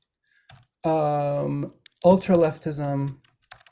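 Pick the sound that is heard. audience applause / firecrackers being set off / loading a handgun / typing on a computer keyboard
typing on a computer keyboard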